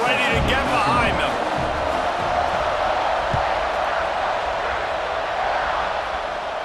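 Stadium crowd in the College Football 26 video game roaring steadily as the kickoff is set up, a dense continuous wash of cheering with a commentator talking over it.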